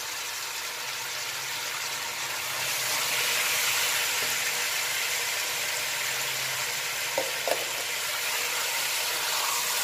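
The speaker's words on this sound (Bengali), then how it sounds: "এই চিকেন, আলু, পেঁয়াজ সব কিছু আমি একসাথে কষাতে থাকবো।" Chicken, potato and onion with ginger, garlic and cumin paste sizzle steadily in a pan, a broad even hiss that swells slightly partway through, with a couple of faint utensil knocks near the end.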